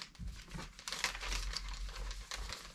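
Plastic bag crinkling and rustling while a toy hydraulic dump truck is unboxed, soft continuous handling noise, close but quiet.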